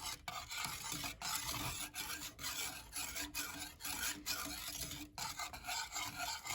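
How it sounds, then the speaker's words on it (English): Thickening chocolate pudding for a pie stirred steadily in a pot, a continuous rasping scrape of the spoon with a rhythmic back-and-forth rub, close and fairly quiet, no voices. "you want to keep stirring it because once it starts thickening, it does thicken pretty quickly"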